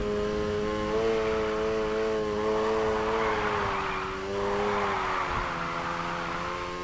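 Game car in Need For Speed Heat revving hard and sliding into a drift, a loud continuous engine whine climbing and falling with tire hiss swelling in the middle, no voices.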